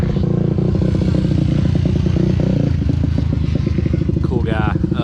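A quad or dirt bike tears through gravel at a motocross track, its engine loud and close with a steady rasping drone, clattering stones and a rising rev near the end.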